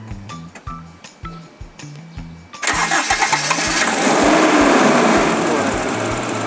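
A 2000 Toyota Kijang Kapsul LSX 1.8 EFI engine cranks briefly with rhythmic starter pulses, then catches and roars into a loud, steady idle with a noisy fan whirring.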